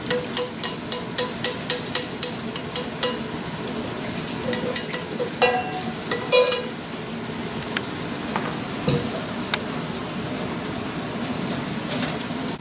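Hot oil poured over red pepper for a noodle stir-fry sets off a steady broadband sizzle, with a run of sharp clicks and clatters early on, and the frying hiss continuing throughout with no talk.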